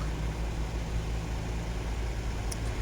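Traffic jam near Blois, France, with cars and trucks idling in queues on both sides of the road, a low steady engine rumble throughout with no speech.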